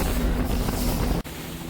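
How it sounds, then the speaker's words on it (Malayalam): A speedboat's engine roars steadily over rushing reservoir water at Banasura Sagar Dam, with wind buffeting the microphone, loud and close, with a brief dropout near the end. "ഒരു മനോഹര യാത്രയാണ് സുരാസാഗർ ഡാമിലെ സ്പീഡ് ബോട്ട് സവാരി"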